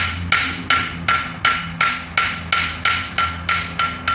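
Rhythmic hammer blows on hot metal during a blacksmith guild demonstration, the smith threading a valley with the hammer held flat; about a dozen sharp, ringing strikes at a steady pace, close and loud, with no talking.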